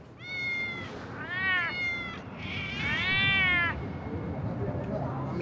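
Several cats at an Italian archaeological site meow in a string of loud, close, drawn-out calls, one after another, over a low outdoor background hum.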